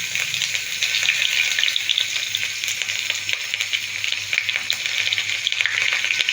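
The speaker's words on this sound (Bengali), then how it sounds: "ওই তেলের মধ্যেই দিয়ে দেব আদা কুচি আর দিয়ে দেব রসুন কুচি।" Chopped ginger and garlic sizzle steadily in oil left over from frying chicken for chilli chicken, a dense, continuous crackling hiss that stays loud and even throughout with no talking.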